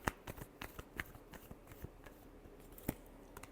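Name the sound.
shuffling tarot cards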